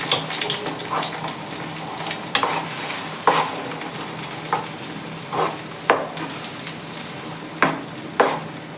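An egg omelette fries in oil with a continuous close sizzle. Sharp spatula scrapes and taps break in at irregular intervals every second or so.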